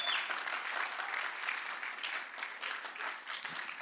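A church congregation applauds couples celebrating their wedding anniversaries, steady full clapping from many hands that keeps an even level throughout.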